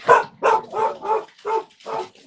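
A dog barks six times in a quick, evenly spaced series, close and fairly loud, the last bark softer, with no talk.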